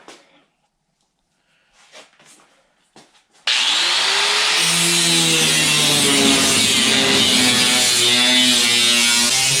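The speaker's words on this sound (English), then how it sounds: "So I got my grinder all set up. And we'll cut this out quickly" An angle grinder cuts sheet metal during repair and fabrication on a 1954 Henry J gasser, a few faint knocks first, then a loud, steady high-pitched whine and grinding screech starting a few seconds in and running continuously up close.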